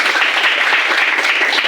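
A classroom of students claps together during a lesson, a dense, loud burst of close applause that stays even and full from start to finish.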